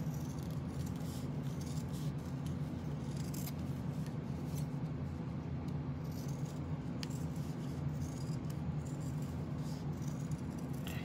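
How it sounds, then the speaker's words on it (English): Scissors cut out fabric pieces for a memory bear, producing faint, close, irregular snipping and rustling over a steady low background hum, with no talking. "I'll go ahead and cut this one out for you"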